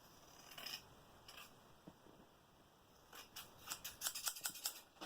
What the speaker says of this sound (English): It cuts through that wet paper